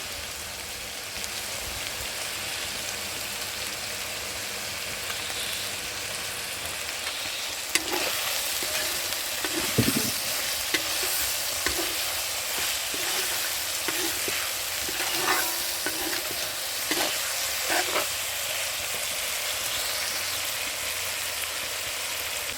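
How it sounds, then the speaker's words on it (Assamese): Duck meat sizzles and fries in a pan with a steady crackling hiss, joined partway through by louder scraping stirs and clatters against the pan. "মাংসখিনি ফ্ৰাই কৰি লৈছোঁ"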